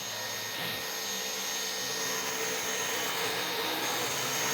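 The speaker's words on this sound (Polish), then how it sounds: "odpalam odkurzacz w trybie pośrednim, czyli jest tak głośny" A Roborock H6 Adapt cordless vacuum cleaner with its Adapt brush runs in its middle power mode, giving a steady, close, high-pitched whirring hiss that holds constant and swells slightly toward the end.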